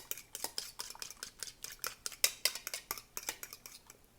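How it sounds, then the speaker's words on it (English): An egg being whisked in a bowl for date-stuffed mamoul cookies, a fork or whisk clinking rapidly and steadily against the sides in an even, close rhythm. "mix the egg all together so that I can add it"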